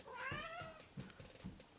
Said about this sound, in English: I have the most neediest cat of all time.